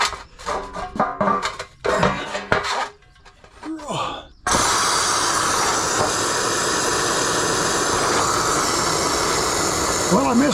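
A Kobalt air compressor tank being drained, a sudden loud steady hiss of escaping air and water running continuously after some earlier talk and handling noises.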